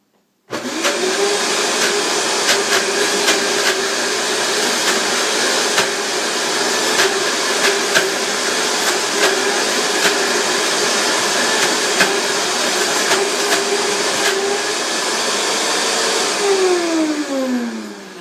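A Vitamix blender runs steadily at high speed for about eighteen seconds, a loud continuous motor whir with a slight pitch change near the end as it winds down.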